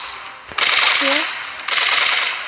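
Rapid gunfire bursts from the Brawl Stars mobile game, loud and dense across most of the clip, with a short gap between two sustained volleys and a brief tonal game effect in between.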